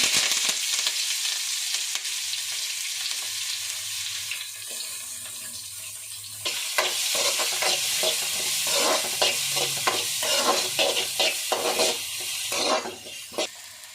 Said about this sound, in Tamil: கடுகு சேர்த்துக்கலாங்க, வெந்தயம் சேர்த்துக்கலாங்க, கருவேப்பிலை சேர்த்துக்கலாங்க, வெங்காயம் சேர்த்துக்கலாங்க